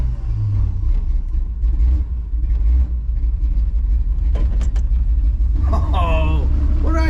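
Engine of a Chevrolet squarebody pickup truck held at full throttle, a loud steady low roar and rumble throughout, with a person speaking over it and some squeaky noises near the end.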